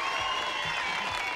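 A studio audience on an Australian music television show applauds a performer. The clapping sounds smooth and continuous, with a sustained tonal layer running underneath.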